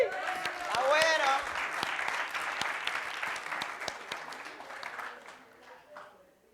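A church congregation claps together in a Spanish-language service, a voice calling out over the start before the applause swells, then thins and fades away.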